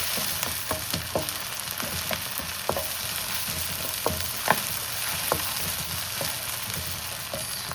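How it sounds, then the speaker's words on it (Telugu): Sesame oil sizzling and crackling steadily in a pan with onions while cooking spinach dal, a continuous frying hiss broken by scattered pops and the occasional stir. "నేను నువ్వుల నూనె వేస్తాను"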